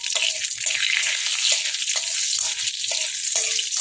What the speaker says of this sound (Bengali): ফোড়নটা ভালো করে ভেজে নিয়ে